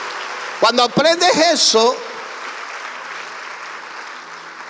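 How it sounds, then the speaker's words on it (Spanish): In a church service, a preacher speaks briefly over a crowd, then sustained applause for God continues on its own as a steady, moderately loud rush of clapping from the congregation. "dale un aplauso fuerte a Dios"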